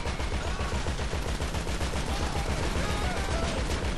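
Rapid automatic gunfire in a video game, a steady, fast rattle of shots that runs without a break, loud and close throughout.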